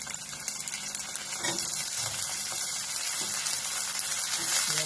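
Chopped capsicum and onion fry in a hot pan, giving a steady, close sizzle that rises slightly in loudness partway through and then holds evenly to the end.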